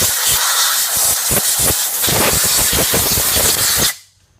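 Compressed air hisses loudly and steadily as leaves are blown off a 2008 VW Audi 2.0T TSI engine, with rapid clattering bursts through the stream before it cuts off abruptly near the end.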